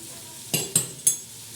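Masala for a biryani pulao cooking in a pan, with three sharp stirring scrapes over a soft steady sizzle.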